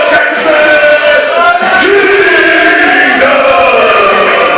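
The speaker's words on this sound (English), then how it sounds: "They're all cheering for them." A wrestling crowd at a tag team championship match cheers loudly and steadily for the Hybrid School of Wrestling champions, with many voices shouting and chanting together in a close, continuous roar.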